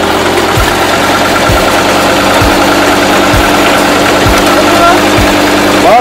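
An off-road vehicle's engine idles loudly and steadily with a knocking throb, with a few short throttle blips spaced roughly a second apart, under a faint voice at an off-road meet.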